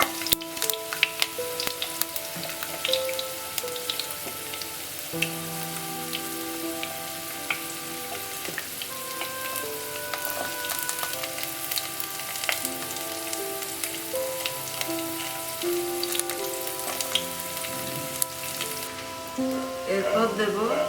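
Garlic and ginger frying in oil in a pan for a capsicum chicken, a continuous bright sizzle with occasional stirring scrapes and pops, while background music plays along throughout.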